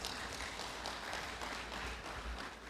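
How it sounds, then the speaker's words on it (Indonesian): Graduates at a university ceremony receive applause, a dense, faint and distant wash of clapping that runs steadily for a few seconds. "berikan aplaus untuk para wisudawan"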